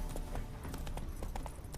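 Quick hoofbeats from Roach, a horse in The Witcher 3: Wild Hunt, trotting in a brief, even clip-clop rhythm over soft background music.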